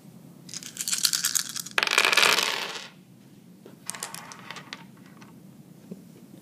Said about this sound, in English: He begins by rolling all 6 dice.